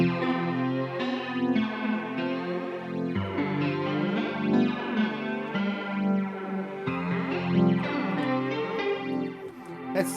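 A heavily processed, distorted musical passage run through the Visual Reverb by 4Pockets AUV3 effect on an iPad, dense smeared washes with chorus-like shimmer and echoing tails, loud and continuous without talk.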